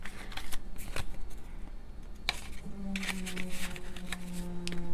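Paper dollar bills rustle and crinkle as they are handled and folded for a cash envelope, close and continuous with crisp papery flicks and no talking.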